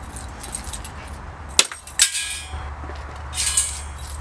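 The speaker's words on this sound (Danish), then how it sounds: "Du kaster jo bare nøglerne, ikke? Så kaster du bare ind i låsen." A set of keys is thrown at a lock. It lands with two sharp metallic clanks about half a second apart, and a lighter jingle follows over steady background noise.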